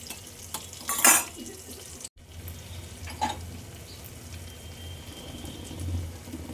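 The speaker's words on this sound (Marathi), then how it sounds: "जेव्हा या रश्श्याला उकळी फुटेल तेव्हा आपण आपली सुरमई फिश या रश्श्यामध्ये सोडायची आहे" Pieces of surmai (kingfish) lowered into a boiling fish curry set off a burst of sizzling and bubbling around the one-second mark, followed by steady simmering with a few small splashes and stirring sounds, and no voices.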